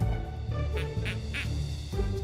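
Ducks quack in the video game Kindergarten, a short run of rhythmic nasal calls repeating over a dense, steady game backdrop, with no voices on top.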